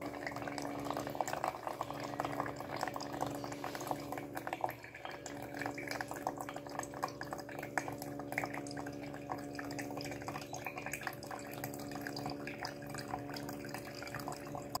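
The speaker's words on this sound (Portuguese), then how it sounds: "É você passar ela por ou por um filtro de papel ou até por um filtro de pano." Water drips and trickles steadily through a paper filter, a continuous soft patter of fine drops close by with no one speaking.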